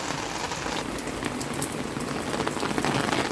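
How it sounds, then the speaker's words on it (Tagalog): Steady heavy rain in Korea pattering on a surface, a dense, constant hiss with scattered drip sounds, no talking. "It's first time na nag-ulan na nandito na ako sa Korea"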